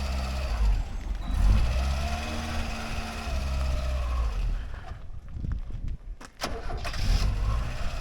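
A Ford Escort Mk4 engine cranks and catches, runs roughly with a faulty carburettor, then stalls with a few sputtering bursts before turning over again nearby.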